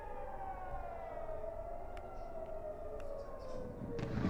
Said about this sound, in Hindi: साथ ही साथ सायरन की आवाज़ें पूरे इजराइल में सुनाई दी